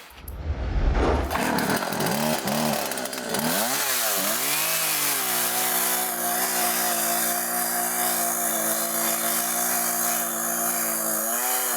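A freshly sharpened chainsaw running and cutting into wood, the engine loud and steady throughout with pitch dips as the chain bites, alone without talk.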